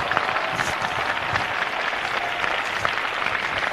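Steady, dense applause from a church service congregation, loud and continuous throughout with no pauses.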